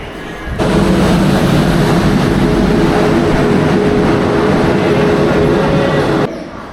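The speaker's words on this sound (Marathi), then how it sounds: "दोन नंबरला आपली गीतांजली एक्सप्रेस येते समोरून" The Gitanjali Express arrives at platform two of a station, a loud sustained rumble of rolling stock with a steady tonal hum, rising in and cutting off near the end.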